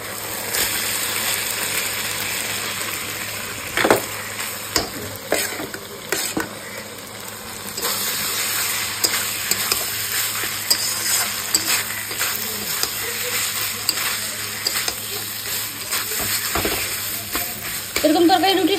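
Boiled potatoes go into a spiced masala that has already released its oil, frying with a continuous sizzle while a spoon stirs and scrapes against the pan in repeated clinks.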